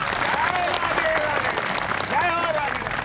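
Crowd clapping at a large community gathering in Durg, dense continuous applause close by, with voices and tonal calls rising over it throughout.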